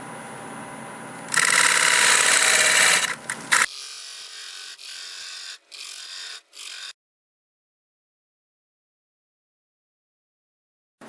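A wood lathe spins a Siberian elm bell with burls at 1200 RPM, a loud whirring, scraping burst for about two seconds, then quieter intermittent rubbing and clicks before cutting to silence.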